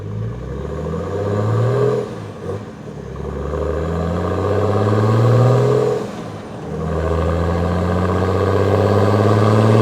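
A heavy Mercedes OM606 diesel engine in a Land Rover Defender rumbles and revs loudly, pitch rising and falling through several accelerations, with a brief dip between pulls.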